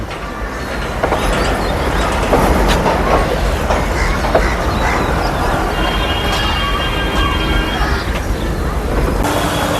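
A Kolkata train rolls along the rails into Eden Gardens station with a steady rumble and rhythmic clatter, and a faint squeal of the wheels rises near the end.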